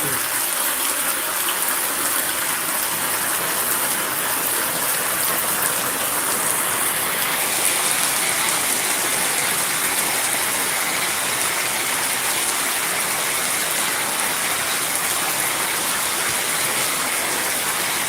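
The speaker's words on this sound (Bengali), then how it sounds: "ভয়াবহ বৃষ্টি কঠিন বৃষ্টি এটা" A dense, steady roar of heavy rain pours without letup, loud and close, with water gushing underneath.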